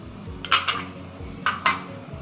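A spoon mixing a red chilli powder, salt and turmeric marinade for surmai fish in a dish, giving two pairs of bright metallic clinks and scrapes against the vessel over a quiet background.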